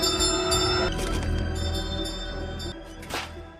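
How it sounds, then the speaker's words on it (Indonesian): A hotel bell rings in a horror film, bright metallic tones ringing out and decaying over a low sustained drone, with a sharp swell near the end. "Bauman segera membunyikan kembali lonceng tersebut"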